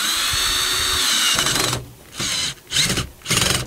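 A power drill drives 1-inch self-tapping screws through a conduit strap into wood, with one long steady whine followed by three short bursts of drilling, close and loud, with no talking.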